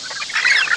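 A small bantam chicken gives one brief, close, bright cluck.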